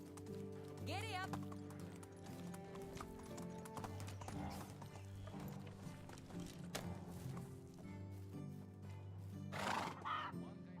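Horse galloping in the Medieval Dynasty video game, with a sharp whinny near the start and another near the end over steady hoof clip-clop, mixed with game music and sound effects.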